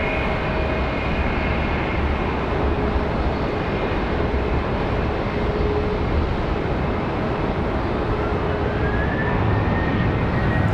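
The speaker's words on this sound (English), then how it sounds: "next departure sounds like a 737" A Boeing 737-800 jet departing from Charlotte Douglas International Airport gives off a steady, broad distant roar that holds evenly throughout, with no voices over it.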